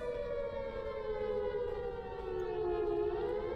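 A civil-defense style siren wails steadily in the video game Those Who Remain, a sustained, slowly falling tone that is heard alone with no speech over it.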